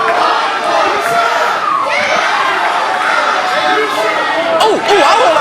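A wrestling crowd roars and chants loudly for more, a dense mass of shouting and cheering voices with individual yells standing out.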